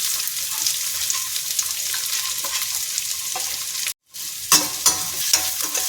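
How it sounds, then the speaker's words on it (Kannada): Finely chopped ginger, garlic and onion fry and crackle in a hot pan with steady close sizzling and occasional stirring scrapes. The sizzle drops out for a moment, then returns with a few sharp pops. "ಚಿಕ್ಕದಾಗಿ ಹೆಚ್ಚಿರುವಂತಹ ಶುಂಠಿ ಮತ್ತು ಬೆಳ್ಳುಳ್ಳಿ, ಚಿಕ್ಕದಾಗಿ ಹೆಚ್ಚಿಟ್ಕೊಂಡಿರುವಂಥ ಆನಿಯನನ್ನು ಹಾಕ್ಕೊಳ್ತಾ ಇದ್ದೀನಿ."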